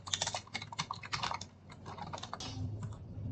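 Someone types a short message on a computer keyboard, a quick run of close, crisp key clicks that slows and thins out toward the end, with no talking.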